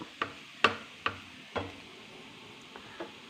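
Bitter gourd being stirred in a pan for a Kerala-style thoran, a handful of sharp utensil scrapes and taps spaced irregularly over a faint background hiss, fairly close and quiet, with no talking.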